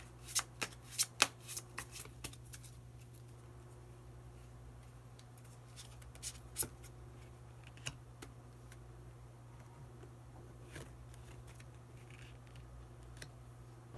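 Tarot cards are shuffled and drawn, with a cluster of crisp riffling snaps at the start. A few scattered card flicks and taps follow over a quiet, steady low hum, and no one speaks.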